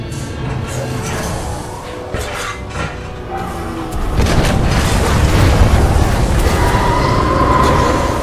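Explosions in the video game Titanfall 2: a loud, continuous, rumbling boom that swells midway and stays dense and heavy to the end, with no talking.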